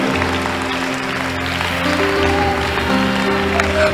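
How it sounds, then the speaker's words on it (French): A church congregation claps along during a prayer-line testimony service, continuous clapping blended with sustained music tones and a faint murmur of voices. "Clap your hands unto the Lord"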